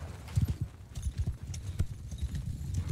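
Cavalry horses of caravans in Mount & Blade II: Bannerlord, many hooves clopping in a dense, irregular drumming, fairly close and steady throughout the stretch, with no talk.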